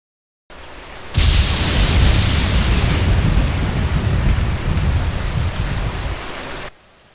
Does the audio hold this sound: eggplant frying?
no